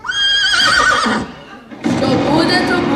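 Horses neigh loudly and close by, one long high whinny followed after a brief pause by another, with faint hoof clatter and voices underneath.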